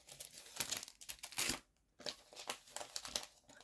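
A paper envelope pouch crinkles and rustles as it is handled and opened, in irregular close bursts with a brief pause midway, no talking.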